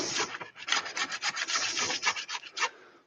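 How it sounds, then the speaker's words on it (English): A chisel pares wood in a series of close, rasping scrapes, with short strokes repeating irregularly over a few seconds and no talking. "I won't use the skew chisel this time, I'll just use the ordinary chisel."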